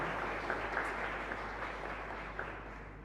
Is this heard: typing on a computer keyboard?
no